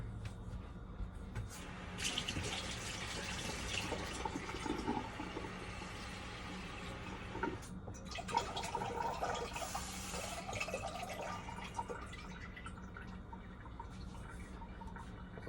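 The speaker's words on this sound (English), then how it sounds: "the first thing I'm going to do is put some water in the first pot" Water poured into a cooking pot while making cannabis butter, a steady splashing, filling rush that runs continuously and fairly quietly, with no talking.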